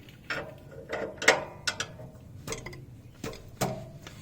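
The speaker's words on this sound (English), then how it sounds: "we're gonna take a 23mm wrench, and then we're gonna remove the O2 sensor" A 23mm wrench works loose the O2 sensor on a Honda S2000 during a Berk 63.5mm high-flow catalytic converter install, giving close, scattered metallic clicks, ratchety ticks and light scrapes with quiet pauses between them.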